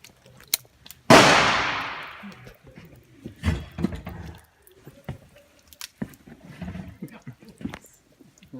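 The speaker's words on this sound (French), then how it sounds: "on va la tester donc au 44 Magnum" A .44 Magnum Raging Bull revolver fires a single loud, close shot of a 240-grain load at a bullet-resistant visor, a sharp crack with a long decaying tail, then rustling and handling noises.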